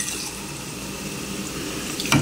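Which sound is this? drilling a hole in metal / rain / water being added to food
water being added to food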